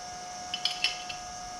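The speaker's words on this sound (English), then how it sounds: "we're just putting the paint cup on, making sure that it's snug on there" A paint cup is fitted onto a Cerakote spray gun, a few light clicking and clinking taps of plastic and metal close by over a steady background hum.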